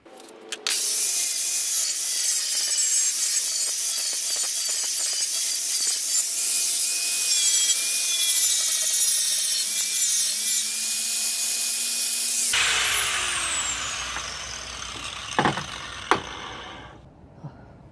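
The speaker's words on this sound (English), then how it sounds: "Now I'm just grinding down the spot weld part that was left so that it's nice and smooth" An angle grinder grinds down leftover spot weld on a Honda Accord's radiator support, a loud, continuous abrasive whine running steadily for about twelve seconds before cutting out, followed by quieter scrapes and a few sharp knocks.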